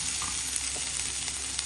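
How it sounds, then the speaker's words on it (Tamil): Onions and cluster beans sautéing over a low flame and being stirred in a pan, giving a steady, close sizzle with soft scraping throughout. "வெங்காயம் வதங்கிடுச்சு, நம்ம கட் பண்ணி வச்சுட்டு சாட்டை வரக்காய் சேர்த்துடலாம். சிம்மில் வச்சு ஒரு 2 பரட்டு பரட்டிடலாம்."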